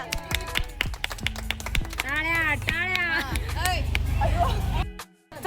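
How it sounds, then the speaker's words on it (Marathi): Quick, uneven claps crackle from a group at a home birthday celebration, mixed with overlapping voices and cheerful singing before the noise cuts off abruptly. "टाळ्या वाजा."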